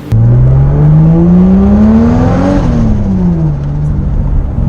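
A Toyota Supra fitted with an eBay turbo kit accelerates hard, its engine droning loud and close as the pitch climbs steadily, then drops after a shift and keeps pulling, with no talk over it.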